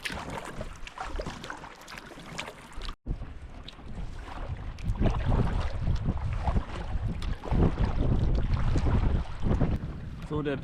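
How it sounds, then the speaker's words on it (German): Strong headwind gusting across the Nærøyfjord in Norway during a packraft trip, roaring and buffeting the microphone with water sloshing, louder in the second half after a brief cut. "So, der Wind hat aufgefrischt, er kommt jetzt leider von vorne."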